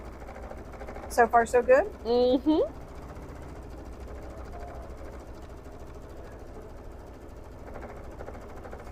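An embroidery machine stitches out a star appliqué, giving a steady low mechanical hum. A voice speaks briefly near the start over the running machine.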